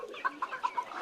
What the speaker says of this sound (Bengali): নিচে যে থাকে মুরগির বাচ্চা, ছোটো বাচ্চা